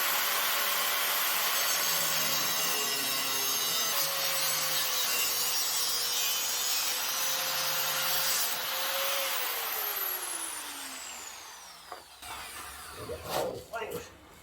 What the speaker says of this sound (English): we're going to cut a shaft for it right here